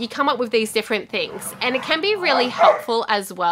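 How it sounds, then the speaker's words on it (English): Pet dogs bark faintly in the background of a home while someone talks continuously in the foreground, the barks partly masked by the voice. "Sorry if you can hear my dogs in the background"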